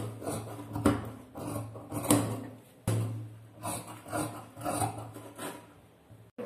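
Scissors cut through plain blouse fabric on a table during tailoring, giving rough rasping snips in uneven bursts, fairly close with a low hum behind.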